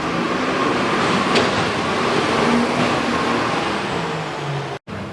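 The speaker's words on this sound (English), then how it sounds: "got a garbage truck here." A garbage truck idles and works nearby outside a mechanic's space, a loud continuous engine drone with faint tonal whines, cut by a brief dropout near the end.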